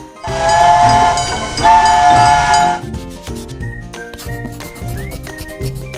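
A train sounds two long, loud whistle blasts back to back, with rail rumble beneath, before cutting off into other sounds.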